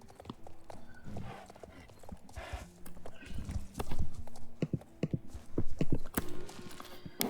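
Horses in the video game Star Stable Online clip-clop on the ground in rapid, uneven hoofbeats, with a whinny mixed in, fairly close and loud; scattered talking and game sounds are heard in the background.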